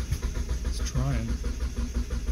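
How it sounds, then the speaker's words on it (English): Car engine cranking over with a suspected dead fuel pump, steady low churning drone that now and then gives a faint pop, with a voice speaking briefly over it. "It's trying. Every now and then I get a pop."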